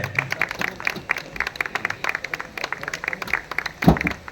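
An audience claps at an honouring ceremony: scattered, uneven hand claps with a few sharp louder ones, under faint background voices.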